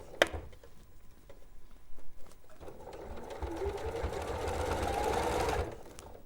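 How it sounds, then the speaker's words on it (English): A sewing machine runs a seam on a Christmas stocking, its quick rhythmic needle chatter building steadily over a few seconds after some soft handling taps, close and moderately loud with no speech. "But just sew half of the head together at this point."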